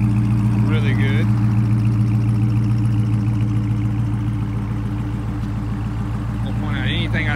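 A 2018 Dodge Charger R/T idles with a steady, deep exhaust rumble that runs throughout, close and continuous, with faint brief sounds near the start and end.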